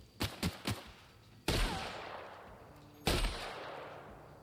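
Gunfire in The Outer Worlds video game: a quick trio of sharp shots, then two heavier blasts that each trail off in a long, noisy decay.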